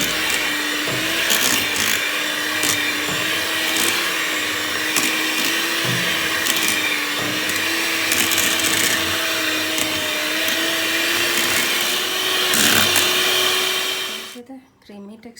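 An electric beater whips ice cream mix made with GMS and CMC powder, giving a steady loud whirring motor drone with scraping rattles for about fourteen seconds before it cuts off abruptly.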